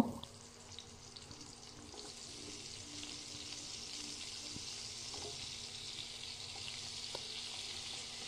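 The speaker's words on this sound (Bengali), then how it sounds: "সুন্দর একদম লাল লাল করে আলুগুলোকে ভেজে তুলে রাখবো।" Potatoes frying in oil in a frying pan for sabu khichuri, a soft, steady sizzle at low volume with occasional faint clicks and stirring, no talking.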